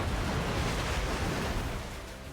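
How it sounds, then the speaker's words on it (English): Water floods into a bunker in the video game Nikke, a dense, steady rushing roar that stays loud and even, then eases slightly toward the end. "Water pours in through the cracks in the walls and ceiling."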